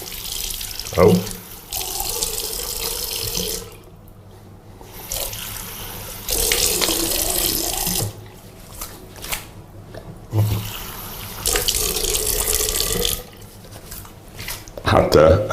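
Tap water runs into a basin during ritual ablution washing, splashing in several bursts that start and stop while someone speaks over and between the flows.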